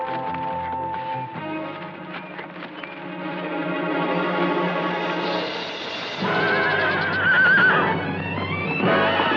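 A horse neighs loudly and at length, a long whinny with echo and effects-like processing, the call rising and wavering near the end over a dense background.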